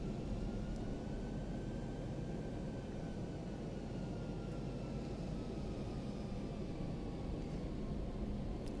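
Aircraft engine drone in the X-Plane 11 flight simulator, a faint, steady hum with thin tones drifting slowly in pitch, no talk over it.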